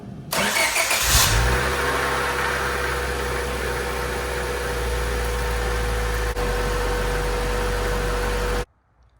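A Honda B16A2 engine cranks briefly and catches, then settles into a steady, loud, close idle with a constant low hum for several seconds before cutting off abruptly.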